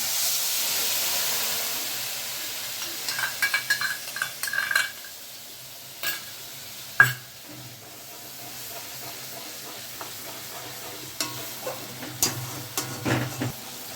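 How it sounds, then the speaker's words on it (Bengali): Soaked spice paste dropped into a pan of frying cumin for doi potol, hissing and sizzling steadily with scattered clinks and scrapes of stirring, close and fairly loud throughout. "জিরাটা একটু ভাজা হয়ে গেছে, এখন সেই যে মশলাগুলো ভিজিয়ে রেখেছিলাম সেইগুলো দিয়ে দিলাম"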